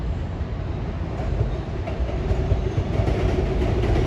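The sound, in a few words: Long Island Rail Road M7 train passing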